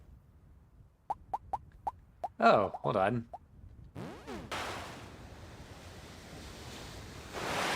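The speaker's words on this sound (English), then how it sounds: "Splashing is so loud." Water splashing sound effects from the Rune Factory: Tides of Destiny game, a loud continuous rushing splash rising after a few sharp plops, with a brief voice speaking over the game audio.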